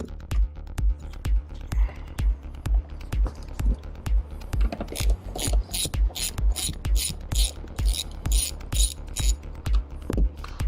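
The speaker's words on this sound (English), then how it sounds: "They're T40 Torx bolts, so just going to remove those 2." A ratchet clicks in a fast, even rhythm while loosening T40 Torx bolts inside a 2012 Mercedes ML, loud and close, with a brighter grinding buzz joining partway through.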